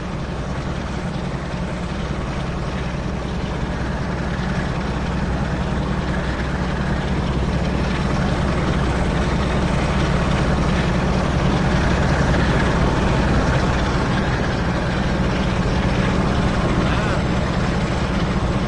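A BR heavy freight diesel locomotive in Train Sim World 2 rumbles steadily and grows louder as it opens up, a dense low engine drone filling the whole stretch with a voice talking over it.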